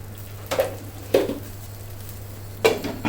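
A lid is set over a cooking pot of mustard hilsa fish curry, giving three short metallic clinks and clatters spaced across the moment against a low steady kitchen hum.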